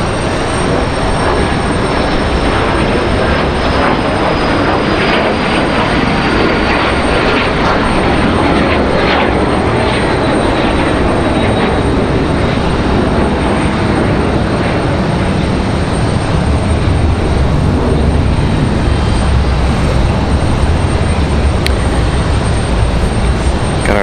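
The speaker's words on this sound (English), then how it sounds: "Got our 777 arriving just a little bit here" A Boeing 777 airliner arriving at Raleigh-Durham International Airport, its loud, steady jet roar filling the air throughout with a faint high whine on top and no voices.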